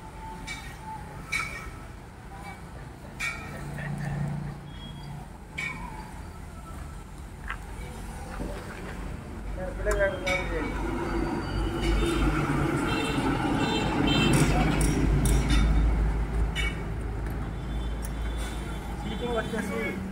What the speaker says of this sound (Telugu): ఒక్కసారి బండి స్టార్ట్ చేసి చూద్దాం